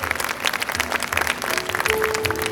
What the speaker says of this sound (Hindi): मैं चाहूंगी ऑडियंस एक बार फिर से जोरदार तालियों से हमारे पैनलिस्ट्स के लिए दीजिए